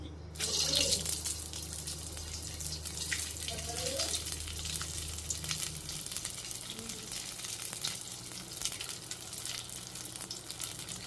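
Purnam, sweet stuffed dumplings, dropped into hot oil and frying with a steady, crackling sizzle that runs throughout, with a brief louder burst near the start.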